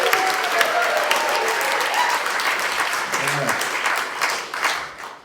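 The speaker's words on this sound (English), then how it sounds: "Cheering, everyone cheering." Crowd applause and cheering at the Edinburgh, Lothians and Borders May Day rally in 2025, a steady dense clatter of clapping with scattered shouts that holds for several seconds before tapering off near the end.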